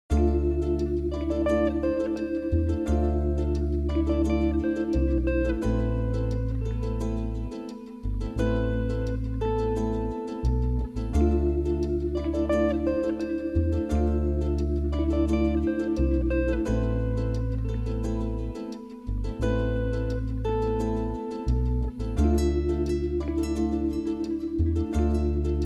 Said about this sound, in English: So the first thing I started with was this ukulele that I got from Contact.